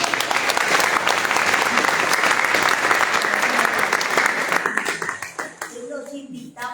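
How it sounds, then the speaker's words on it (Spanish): Audience applause fills a book launch event in a theatre, dense and sustained clapping that thins and fades out near the end, with a few voices emerging as it dies down. "Así que un aplauso."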